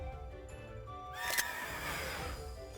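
Spectrier, a horse Pokémon in Pokémon Shield, gives a single sharp, shrill whinny partway through, rising over a soft ambient game backdrop.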